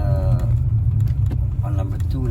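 BMW E60 M5 with a V10 engine running, a loud steady low rumble under a voice talking over it.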